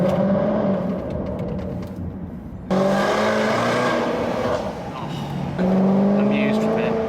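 Loud Range Rover Sport SVR with an upgraded exhaust roars through gear changes, with sharp jumps in engine note at each shift; speech is faint or absent.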